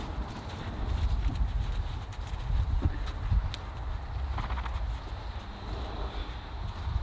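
Hooves of a Standardbred horse clip-clop at a steady walk on a trail ride, the irregular knocks fairly close against faint outdoor background noise, with no talking.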